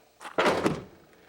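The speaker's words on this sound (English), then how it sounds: "I gotta let you hear the sound of my car door shutting" A single car door shuts with one solid, muffled thunk, preceded by a faint click and followed by a brief fading rumble.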